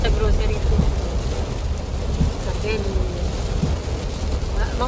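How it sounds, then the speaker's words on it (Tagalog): Steady, dense heavy rain in the Philippines hissing loudly and continuously, with a low rumbling wash underneath and faint voices mixed in. "Malakas po ang ulan."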